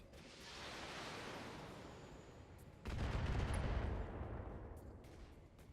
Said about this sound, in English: Some really accurate missiles there.